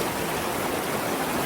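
The Ranga River near Bylakuppe flows past in a steady, dense rush of water, close and fairly loud, with no voices over the continuous wash.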